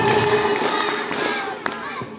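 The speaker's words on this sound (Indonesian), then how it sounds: "Tepuk satu. Tepuk dua. Tepuk tiga." Children and adults in a school hall audience clap their hands at an Isra Mi'raj gathering, a brief burst of crowd clapping with a thud near the end, fairly loud and close, mixed with lively voices.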